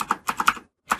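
Close, fairly loud clatter of computer keyboard keys as code is typed, a burst of several quick strokes, a brief pause, then another keystroke, with no voices.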